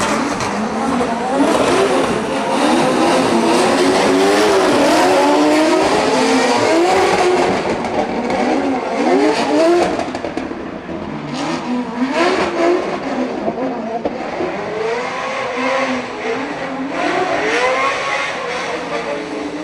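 Drift car engine on a practice run at a drifting event in Riga, revving and bouncing off the limiter in rapid wavering bursts. It sounds loud and sustained, with tire and crowd noise mixed in, for nearly twenty seconds.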